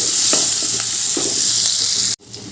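Chopped onion frying in oil in a pan for a banana-flower and prawn dish, a steady loud sizzle with soft scraping stirs, then cutting off abruptly near the end.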